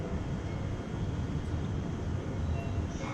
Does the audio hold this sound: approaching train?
yes